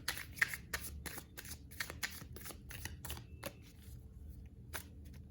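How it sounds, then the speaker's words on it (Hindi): Tarot guidance cards from the Rebel deck are shuffled close up, a quick run of crisp riffling snaps and flicks that thins out toward the end, with no voices. "Rebel deck से आपके लिए guidance card लेते हैं।"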